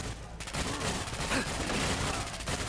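Sustained video-game gunfire from a player's weapon in Fallout 4, a steady loud rattle of shots filling the whole stretch without pause, with no talking over it.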